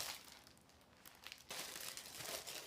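Paper sewing patterns being handled, a soft crinkling and rustling of sheets at close range, quiet at first and then fuller and busier for the last second or so.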